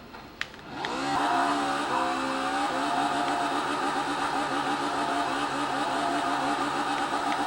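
A classic car does a burnout along the Bathurst Main Straight, its engine rising from a sharp start into a loud, sustained roar with sweeping rev changes that holds steady and close throughout, no talking.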